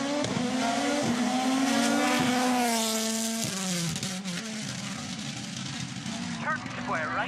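A WRC rally car, Craig Breen's, launches off the start line at shakedown for Rally Belgium Ypres 2022, its engine rising in pitch through gears, loud and close, then fading into the distance with crowd noise behind.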